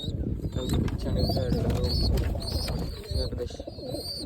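Pigeons in a coop coo and chirp nearby, repeated soft calls with brief wing flutters over a rumbling, noisy background.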